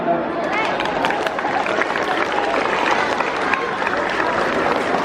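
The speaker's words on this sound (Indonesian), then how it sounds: "Tepuk tangan dong." Students at a school orientation opening clap together in a crowd, a continuous mass of applause mixed with murmuring voices and chatter.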